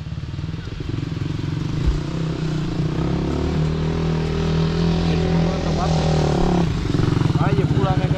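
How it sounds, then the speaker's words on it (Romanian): A motorcycle engine runs close by with a steady, throbbing idle, and the revs rise toward the end. Its clutch is said to work well. People talk over the engine noise. "Ia urcă-te pe motorul meu."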